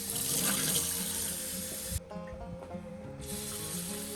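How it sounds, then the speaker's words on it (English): Really warm water runs from a kitchen tap for bread dough, a steady hissing rush that shifts to a softer, thinner stream partway through. "really warm water."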